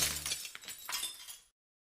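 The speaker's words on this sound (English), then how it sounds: "Shattered pieces fall to the ground in a symphony of crashes." Glass shatters in the horror video game Fallen Angel: a sharp, loud crash followed by a scatter of tinkling, crunching shards over about a second and a half, then silence.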